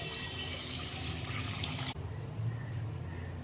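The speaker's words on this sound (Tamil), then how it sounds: "அந்த அளவுக்கு நான் தண்ணி ஊற்றிக்கிறேன்" Water pours steadily into a pot of rice for porridge with a continuous splashing gush, then shifts to a lower, fuller filling sound as the level rises.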